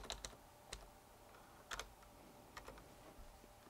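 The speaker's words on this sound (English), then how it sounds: "We type it again." Typing on a computer keyboard, with quiet, sparse clicks in small irregular bursts and single taps against faint background hiss.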